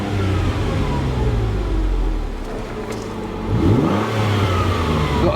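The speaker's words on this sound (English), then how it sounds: "as you can see, it revs lovely" Ford Mondeo ST220 engine revving up close, a rising and falling mid-pitched roar with one sharp blip near the end, heard alone without talk.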